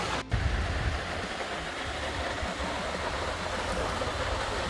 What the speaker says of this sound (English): There's a waterfall there behind the big tree.